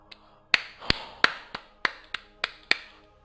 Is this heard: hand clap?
yes